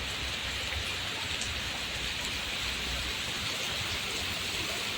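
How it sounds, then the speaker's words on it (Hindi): Steady, dense rainfall pours down continuously, a heavy downpour drumming on surfaces with no voices present. "ये देखो और ज्यादा तेज बारिश होती जा रही है।"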